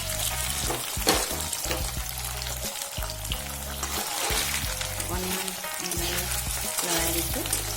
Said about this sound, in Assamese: এয়া তেল গৰম হৈছে আৰু মই পনীৰখিনি দি ল'ম।